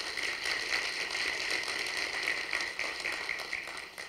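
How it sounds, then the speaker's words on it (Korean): A university lecture hall audience applauds as a professor is introduced; dense, steady clapping from many hands, fairly faint and distant, continuing without a break. "우선 큰 박수 부탁드리겠습니다."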